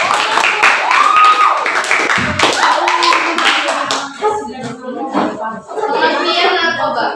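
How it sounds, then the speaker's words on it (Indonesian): Students in a classroom clap for a group for a few seconds, quick close clapping that tapers off into children's chatter and talking. "Tepuk tangan dulu untuk kelompok 2."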